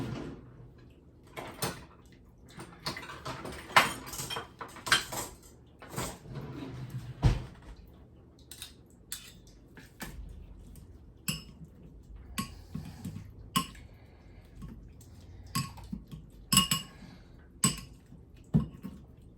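A whole avocado is mashed with salt and pepper in a bowl, producing close, intermittent taps, clicks and scrapes in an irregular rhythm with quiet pauses between strokes and no talking.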